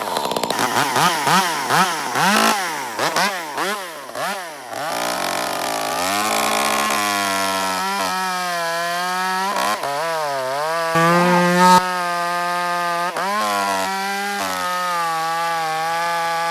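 A chainsaw revs and bogs as it cuts wood cookies, its loud, close engine whine rising and falling in pitch before settling into a sustained cutting drone.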